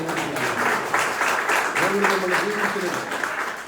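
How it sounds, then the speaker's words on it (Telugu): Church congregation applauding at an anniversary worship service, a steady wash of many hands clapping throughout, fairly loud, with a voice speaking over it partway through. "కొడదాం, చప్పట్లు కొడదాం."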